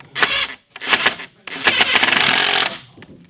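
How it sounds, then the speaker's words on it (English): A power drill drives pocket screws into wood while building raised garden beds, three close, loud bursts of whirring, the last one longest and rattling. "And you're pocket screwing it."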